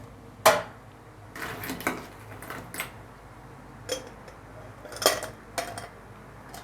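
Ice cubes dropped into two glasses for a mango shake: a sharp clatter first, then scattered clinks and knocks in uneven bursts, close and fairly loud, with no talking.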